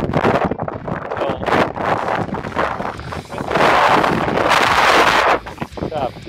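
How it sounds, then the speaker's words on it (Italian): Strong wind in a desert sandstorm on the road toward Saudi Arabia, roaring and buffeting the microphone in loud gusts that surge and ease, with someone talking over it in places. "Mischia ragazzi, c'è un vento."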